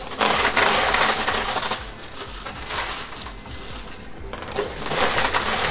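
Coins clatter and tumble in a high limit coin pusher machine, bursts of dense metallic jingling that swell, ease off and return without any talking.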